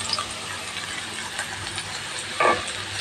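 Two chopped onions drop into hot oil in a pan for a fish curry and sizzle with a steady, soft hiss, with a brief louder crackle near the end and no voices.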